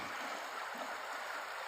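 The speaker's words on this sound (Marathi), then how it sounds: "मंगळाची ओढ्यात वाडी ओढ्यातून हा पाणी सगळं येत आहे" Overflow water from Mahalakshmi lake at Peth Vadgaon runs down a stream as a steady, soft broadband rush, continuous and fairly faint, with no voices.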